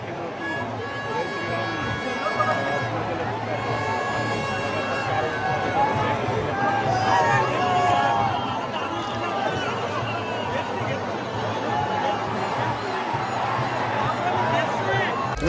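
A dense village-fair crowd at the Raibadevi yatra in Rave, a steady wash of overlapping voices, shouts and murmur close around, with no single speaker standing out across the whole stretch.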